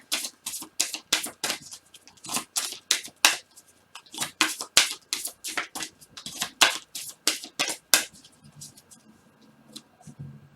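Tarot cards shuffled by hand in a rapid run of crisp, papery riffs and slaps, close and fairly loud, with a brief lull near the end and no talking.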